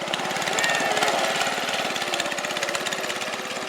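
A homemade ATV's small engine runs steadily nearby with a rapid, rattling chug throughout, loud and continuous.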